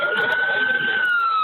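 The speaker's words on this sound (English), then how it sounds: "The call ends as sirens approach." A loud, steady siren wail fills the clip, sustained and close, with faint noise beneath.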